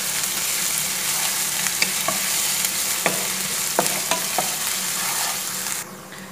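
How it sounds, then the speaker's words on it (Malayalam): Crushed ginger and garlic sautéing in a pan for a coconut-milk chicken dish, a steady close sizzle with a few sharp scraping stir clicks, the hiss dropping away at the end. "ഏകദേശം ലൈറ്റ് ഒരു ബ്രൗൺ ഷെയ്ഡ് വന്നു തുടങ്ങിയ സമയത്ത് നമുക്ക് ഇതിനകത്തേക്ക് ഇഞ്ചി വെളുത്തുള്ളി ചതച്ചും കൂടി ഇട്ട് കൊടുക്കാം."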